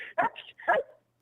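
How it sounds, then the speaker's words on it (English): Two quick, sharp barks from a dog close by, each short and loud, followed by silence. "Hey, calm down, Roscoe. That's my dog"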